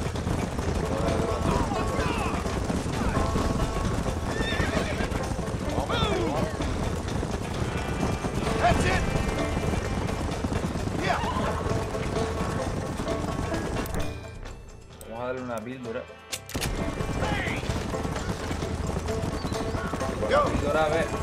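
Horse galloping in the video game Red Dead Redemption, rapid continuous hoofbeats up close with occasional whinnies, broken by a brief near-silent gap before the galloping resumes while someone talks over it.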